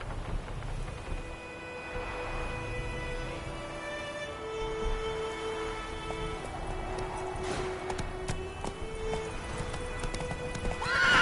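Roach, Geralt's horse in The Witcher 3, gallops with steady rhythmic hoof clip-clops over a rain-like ambient backdrop, a whinny rising partway through, and sustained musical tones underneath.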